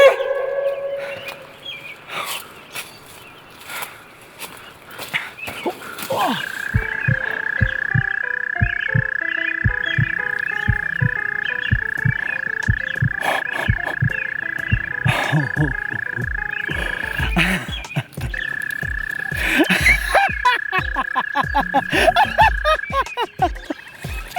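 A chorus of frogs croaks loudly and nearby, with a sustained trilling call and rapid repeated croaks layered over it throughout.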